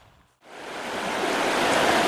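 Flowing water on the River Lochy during a paddling trip rushes in as a broad, steady hiss that swells in loudness after a short quiet start and stays close and continuous.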